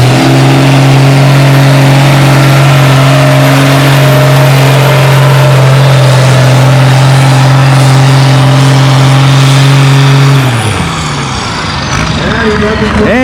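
A Farmall 560 tractor roars at full throttle during a 7,000-pound tractor pull on a rain-soaked clay track, a loud steady engine drone that holds for about ten seconds before dropping off as the run ends.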